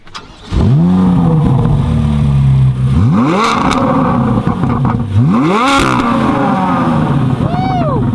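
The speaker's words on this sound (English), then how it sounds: "It is literally the most insane sounding car, I think, in the fleet." A Corvette engine with stock exhaust starts and revs hard several times, loud and close, its deep exhaust roar rising and falling in sharp bursts.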